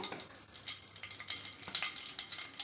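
Turmeric sizzling in hot oil in a pan for paneer masala curry, a steady close crackle and hiss with faint stirring, no voices.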